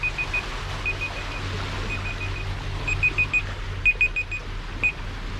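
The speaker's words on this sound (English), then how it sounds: "That's my alarm to tell me to tell the fridge back on." An alarm beeps as a reminder to switch a fridge back on aboard a sailing boat: short, bright electronic beeps come in irregular bursts over a steady low hum, and no one speaks.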